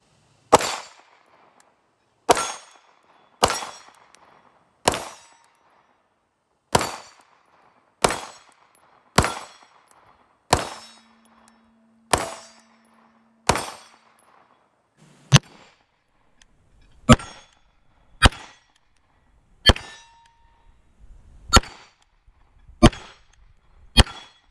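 Canik TP9SFX pistol fired at targets, about eighteen sharp, loud shots spaced one to two seconds apart, with short gaps in the string and faint ringing between.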